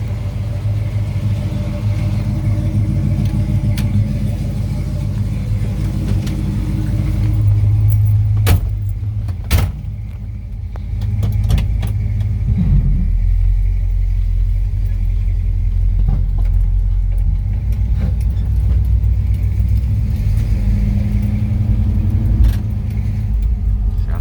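A 1955 Chevrolet 210 with a 454 engine drives along, a deep continuous rumble with rising and falling engine load and occasional rattles and jangles inside the cabin, loud and close throughout.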